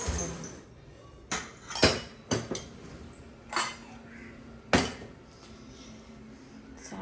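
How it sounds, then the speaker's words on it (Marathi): Dishes are washed by hand in a home kitchen, with scattered clinks and clatters of pots, plates and cutlery coming in sharp bursts between quieter rinsing moments. "आता भांडी घासून घेते."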